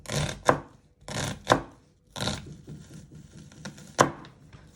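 A knife slices vegetables on a cutting board while stuffed pork with vegetables is prepared, giving four or five sharp, close chopping strokes in uneven bursts with a few softer taps between them.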